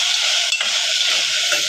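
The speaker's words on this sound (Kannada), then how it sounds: "ಎಲ್ಲ ಹಸಿ ಸ್ಮೆಲ್ ಹೋಗೋವರೆಗೂ ಸ್ವಲ್ಪ ಫ್ರೈ ಮಾಡ್ಕೊತೀನಿ." Ginger garlic paste frying with green chillies in a pot for egg biryani, giving a dense, steady sizzle with a faint stirring scrape, close and even over a short stretch.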